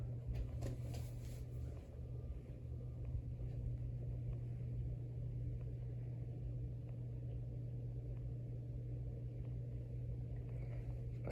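A 52-inch Quoizel floral hugger ceiling fan runs with its speed turned up, a close steady motor hum and soft airy whir under low rumbling and faint rattles throughout.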